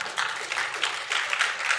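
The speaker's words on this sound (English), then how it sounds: "applaud yourself." Audience applause at a career mentoring talk, a short burst of many hands clapping at a steady, moderately close level with no voices over it.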